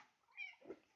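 A hungry house cat meows once, faintly and close by, a short rising-falling cry in a quiet room.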